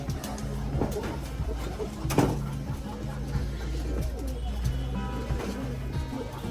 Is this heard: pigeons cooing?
yes